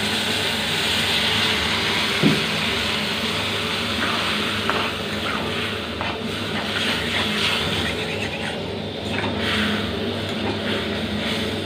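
Fish frying in a pan or kadai: a steady, close hiss of sizzling oil runs throughout, with a few faint clinks of a utensil.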